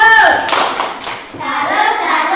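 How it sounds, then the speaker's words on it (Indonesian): Children in a classroom give a short salute clap, a burst of hand claps that swells and dips across a couple of seconds, loud and close, with young voices mixed in. "Tepuk tangan dulu untuk Gary. Tepuk salut."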